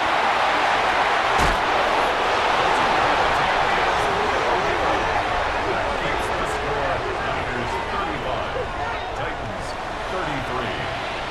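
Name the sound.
stadium crowd in Madden NFL 26 video game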